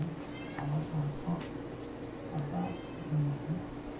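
Kittens give several low, soft meows in short bursts beneath murmured conversation and indoor background noise, fairly faint and close.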